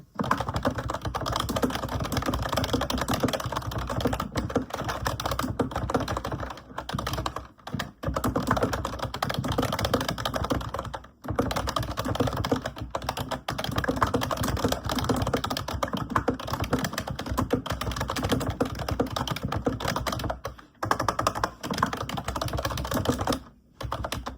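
A computer keyboard clatters with continuous, fast, close typing during a session writing a novel, broken by a few short pauses and no speech.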